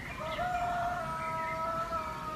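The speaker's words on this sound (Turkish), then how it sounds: "Horoz da kutluyor bayramınızı." A rooster crows once in a long, drawn-out call, clear and fairly close, with faint background noise and no talk.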